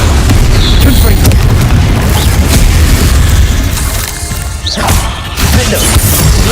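A Confringo fire spell bursts in the video game Hogwarts Legacy, with loud, dense booming impacts and crackle filling the scene, overlapped by other spell effects and a voice.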